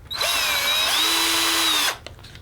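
A power drill bores a hole through foam board for a model plane part, a loud, close whine lasting under two seconds with a slight pitch dip as the bit cuts, then stopping.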